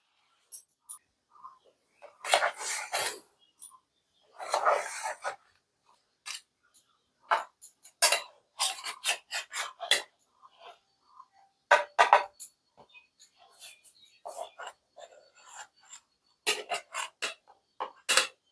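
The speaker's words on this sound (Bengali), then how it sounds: "দেখো কি সুন্দর পিস পিস করে কাটা যাচ্ছে" Cooked lentil cakes for dhokar dalna being cut into pieces with a knife, a series of short, close, crisp cutting taps and scrapes with quiet gaps between them.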